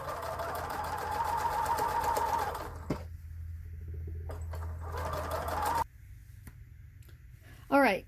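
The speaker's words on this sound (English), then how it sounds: "I'm just going to keep the top stitching less than a 1/4 inch" A sewing machine runs in two bursts of rapid, even buzzing as it top stitches the turned pages of a cloth book made from a printed panel, close by, with a pause and a brief voice between.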